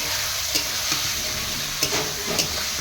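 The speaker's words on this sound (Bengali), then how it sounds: "মাছগুলো দিয়ে দেওয়ার পর ভালো করে আমি কষিয়ে নেব" Marinated hilsa pieces frying in a pan of mustard-based masala, a close, steady hiss of sizzling oil broken by a few soft stirring scrapes.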